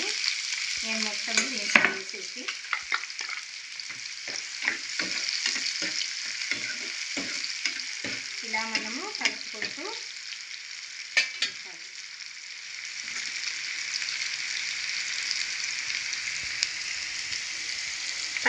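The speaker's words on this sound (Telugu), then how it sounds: "ఆయిల్ బాగా మరిగింది కదండి మరిగిన తర్వాత ఇది ఉల్లిపాయ ముక్కలు" Chopped onions fry in well-heated oil with a loud, continuous bright sizzle, and spoon-and-pan stirring scrapes come through over it during the first part.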